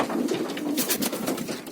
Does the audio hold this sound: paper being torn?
no